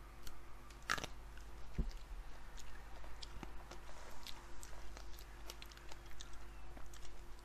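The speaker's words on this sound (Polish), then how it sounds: "Zjem sobie czereśnię. Taką jasno-czerwoną bardzo." A crunchy light-red cherry is bitten and chewed close up, with a few crisp crunches over soft, wet mastication and quiet background hum.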